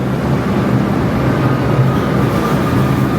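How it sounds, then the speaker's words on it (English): Loud, steady rumble and roar of a New York subway train moving into a station, with a constant droning hum and no voices. "I think I see the lights of our subway train coming down."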